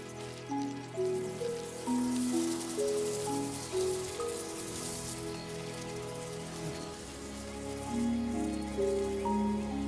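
Seasonal rain falls steadily throughout, a continuous even patter on surfaces at the start of the wet season, with tonal layers running beneath the hiss.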